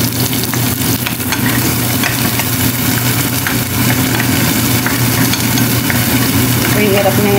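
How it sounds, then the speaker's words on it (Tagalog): Garlic and onion sauté in a pan, a loud continuous frying hiss with stirring scrapes and a low background hum. "Iginita ko na ang sibuyas at bawang."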